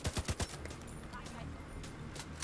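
A shooter fires in the Division 2 video game: four quick, loud gunshots open the moment, then a murmur of battle ambience with faint scattered pops and one more shot at the end.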